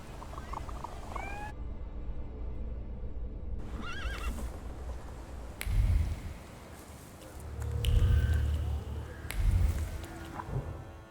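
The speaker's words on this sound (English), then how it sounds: "I meant to take the horse out for a ride" A horse whinnies several times and hooves clip-clop in the video game The Thaumaturge, the neighs sharp and close, the hoofbeats arriving in heavier bursts later over a faint ambient backdrop.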